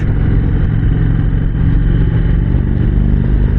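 Steady low rumble of an Indian Springfield cruiser engine while riding, a continuous loud mid-low drone with a throbbing pulse and no talking.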